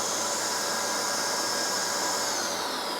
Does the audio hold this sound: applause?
no